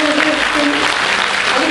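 Dense, steady audience applause at a school concert of wind and percussion instruments fills the whole stretch, loud and continuous, with faint voices mixed into the crowd noise.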